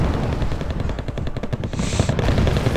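Tank guns and machine-gun fire in the Wargame strategy game, loud rapid bursts of shots crackling in quick succession over a heavy rumbling battle din, without speech.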